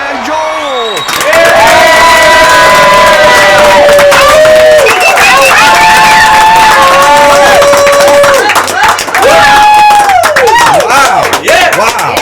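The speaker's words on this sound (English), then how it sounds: "I love the applause. It's a full house." A full-house studio audience at a live show cheers and applauds loudly, with whoops and shouts riding over dense clapping for several seconds, sustained and energetic throughout.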